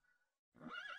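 A brown horse in the Minecraft video game gives a loud, close whinny with a rising and falling pitch, heard alone after a brief fainter sound.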